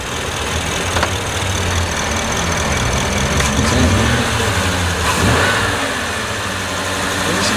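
A tuned Ford 6.7 Powerstroke diesel engine idles with a steady, loud rumble, then revs up briefly in a few bursts, with people talking faintly in the background.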